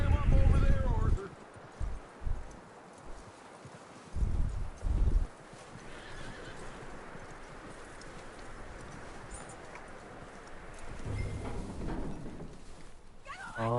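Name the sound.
horse neighing and hooves, video game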